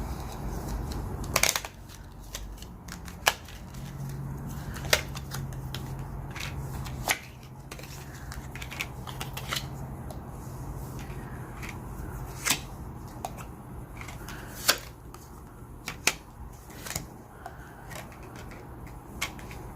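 Tarot cards being shuffled and drawn from a deck, a run of sharp, scattered clicks and slaps against a low, steady background hum, close and fairly quiet.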